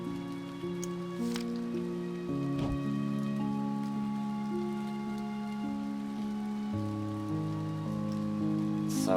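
Rain sound effect in To the Moon, a steady soft patter of rain under sustained gentle piano-like tones, no talking.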